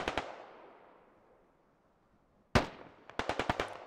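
In a military shooter game, a pair of sharp gunshots crack nearby and ring away into a long fading echo, then a single loud report is followed by a quick run of distant shots.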